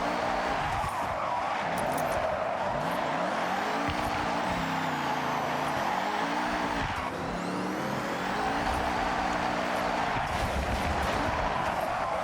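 A Toyota GR GT drifts along mountain touge roads in Forza Horizon 6, with a loud continuous engine roar whose pitch swoops up and down through gear changes, mixed with sustained tire squeal and skidding.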